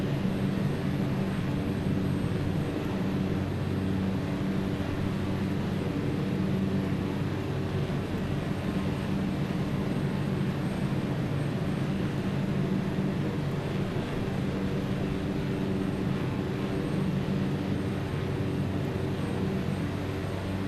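A steady airplane engine drone in Microsoft Flight Simulator 2024 on approach for a touch and go in Patagonia, continuous and even in loudness for the whole stretch, with no talking over it.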